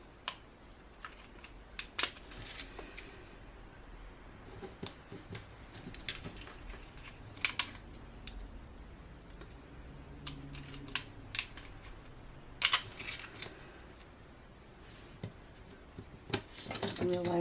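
Small stuck-together gemstones peeled and pried off a backing sheet while finishing a handmade card: close, scattered plastic clicks and light crinkles that come in irregular bursts against a quiet room.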